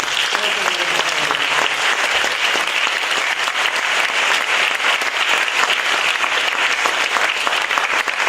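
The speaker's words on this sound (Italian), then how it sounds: "Quindi farei veramente un applauso per questa." Dense, steady audience applause fills a concert hall at the 20th Note su Note show in 2017, loud and continuous from start to finish with no break or voices standing out.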